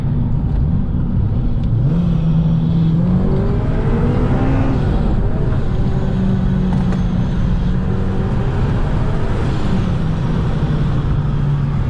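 Supercharged Honda Civic Si engine pulling hard through a turn, a loud continuous drone rising and shifting in pitch with supercharger whine layered on top, close and steady throughout.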